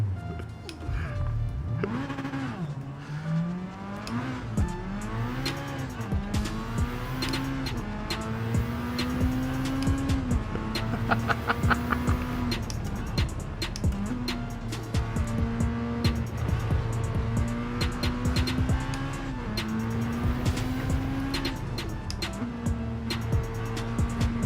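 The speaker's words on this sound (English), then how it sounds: "we go S2000 drifting" Honda S2000 drifting in Gran Turismo 7, a steady revving engine drone with rising and falling pitch and tire squeal running continuously, loud and close, with occasional talk over it.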